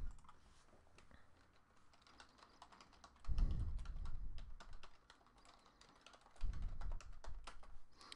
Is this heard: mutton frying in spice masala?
no